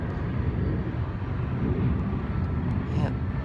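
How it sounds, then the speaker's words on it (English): An American Airlines A320 takes off on the south side at Los Angeles, a broad, rumbling jet roar with wind buffeting, loud and continuous throughout, with faint voices in the background. "got an American Airlines A320 taking off on the south side"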